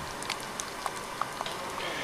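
A Vallejo paint dropper bottle shaken to mix the paint gives a quick run of small rattling ticks and faint sloshing taps, close and fairly quiet.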